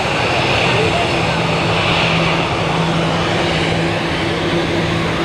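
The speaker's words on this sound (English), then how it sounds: "Beautiful A340." A Swiss Airbus A340 four-engine airliner passes at Zurich Airport, a loud, steady roar of jet engines with a faint whine above, filling the whole span without letting up.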